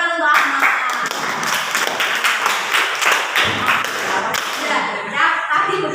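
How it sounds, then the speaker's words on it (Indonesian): A classroom audience claps for a student named Ahmad, a dense burst of hand claps lasting several seconds, close and fairly loud, with a few thumps and taps mixed in. "Tepuk tangan untuk Ahmad."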